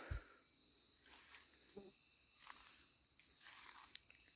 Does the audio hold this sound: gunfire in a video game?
no